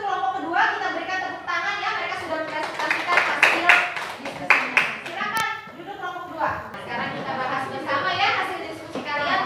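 Children in a primary school classroom clap for a group that has just presented, a steady patter of small hands with kids' voices chattering over and around it throughout.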